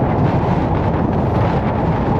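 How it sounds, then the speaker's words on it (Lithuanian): Wind buffets the microphone at a harbour in Norway, a loud, dense, steady roar that rushes on without pause and masks any rain. "Ir lietus dar pradėjo lyti ir vėjas."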